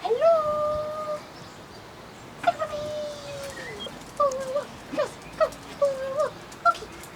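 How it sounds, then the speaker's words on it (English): A dog howls and whimpers outdoors on a morning walk near a cottage garden, with long drawn tones followed by a run of shorter yips and whines, fairly close and clear. "I think there's a dog right here."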